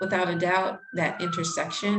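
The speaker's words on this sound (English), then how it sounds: "Sorry about the sirens in the background." A siren wails steadily in the background beneath a person talking, its held tone running through most of the clip.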